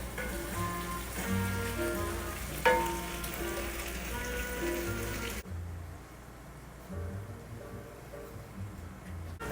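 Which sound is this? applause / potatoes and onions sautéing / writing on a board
potatoes and onions sautéing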